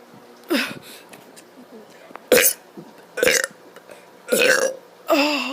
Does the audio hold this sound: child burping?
yes